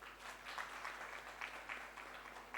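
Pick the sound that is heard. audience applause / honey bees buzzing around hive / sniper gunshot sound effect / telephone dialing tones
audience applause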